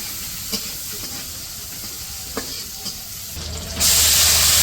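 Garlic, green chili and onion frying in hot oil in a village kitchen, a steady sizzle with a few stirring scrapes, surging louder near the end.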